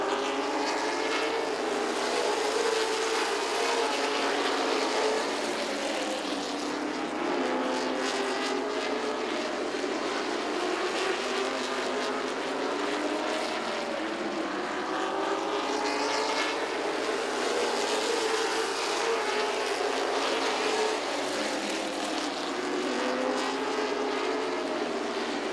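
Late model race cars roar around Southside Speedway mid-race in a 50-lap main event, a dense continuous engine drone with passing swells, loud and steady throughout.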